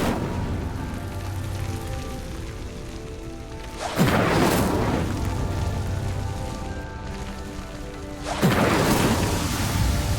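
An Incendio fire spell is cast twice in Hogwarts Legacy, each a loud whooshing, crackling burst of flame roughly four seconds apart over quiet ambient music, with no talking.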